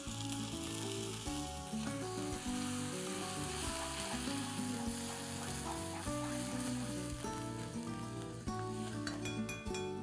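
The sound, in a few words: tomato puree sizzling in pan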